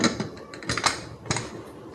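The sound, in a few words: closing the pressure cooker lid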